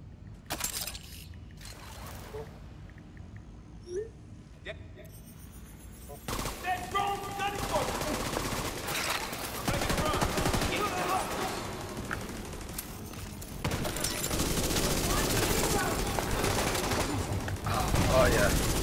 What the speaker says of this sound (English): look at all those bullets fly!